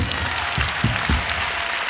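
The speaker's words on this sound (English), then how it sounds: "If you give them a round of applause for production." Concert audience at a show in Moscow's State Kremlin Palace, 1996, applauding the production crew: a steady, dense wash of clapping from a large crowd, even in level throughout.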